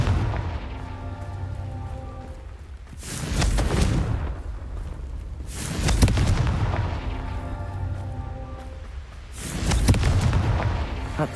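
Confringo spell explosions in Hogwarts Legacy, three loud bursts a few seconds apart, each a booming blast with crackling debris over a steady background hum.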